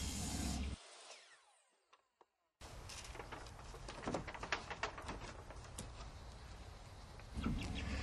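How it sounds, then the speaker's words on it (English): A miter saw set square cuts a piece of wood for repairing a rotted wooden door, its motor whining then dropping away, followed by a short silence and a run of clatters and knocks nearby. "I'll cut the piece in a miter saw, set to 90 degrees on all planes"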